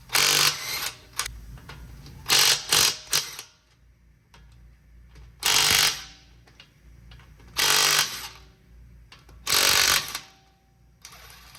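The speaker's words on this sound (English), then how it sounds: "our first step is going to be to remove our wheel. It's going to be a 19mm for our lug bolts." A power impact tool zips lug bolts off the wheel of a 2013-2016 Dodge Dart, loud close bursts in several separated runs with quiet gaps between, no talk.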